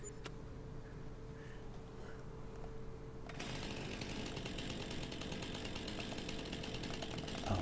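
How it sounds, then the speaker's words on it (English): In a video game, a quiet stretch gives way to a sudden loud, buzzing chainsaw roar that keeps running steadily to the end. "Sounds like a chainsaw."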